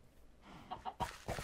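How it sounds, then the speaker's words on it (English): Brief, quiet clucking of chickens in the video game Minecraft, a few short soft bursts in quick succession near the end. "Chickens."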